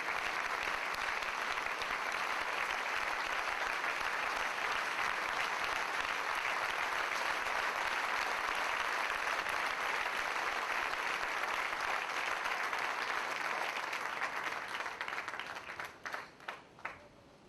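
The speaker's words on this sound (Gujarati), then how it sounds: "દરેકના હાથ ઉપર તાળીઓથી, માત્ર તાળીથી, સંગીત નહીં, માત્ર તાળી." A large audience claps steadily at a Jain diksha farewell ceremony, dense continuous applause with no music, holding strong for most of its length before thinning into a few scattered claps at the end.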